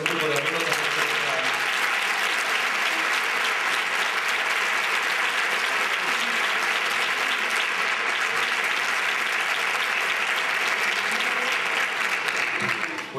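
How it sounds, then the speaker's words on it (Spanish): Sustained applause from a large crowd at a carnival proclamation ceremony in Isla Cristina, clapping steady and dense throughout, with faint voices mixed in, easing off at the end. "Pues vamos a darle un gran aplauso"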